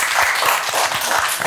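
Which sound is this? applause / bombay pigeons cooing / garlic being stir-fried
applause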